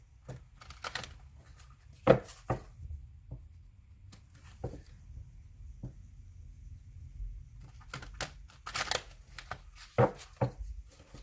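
Tarot cards being shuffled during a card reading, soft intermittent riffling and tapping bursts separated by quiet pauses, close and fairly faint.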